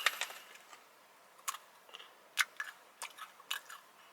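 Quiet, close crunching and chewing of a chickpea flour snack, with irregular soft bites and clicks spaced out over a few seconds, no talking.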